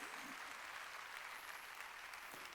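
A church congregation at a Sunday worship service applauds in a faint, dense, continuous patter of clapping heard from a distance.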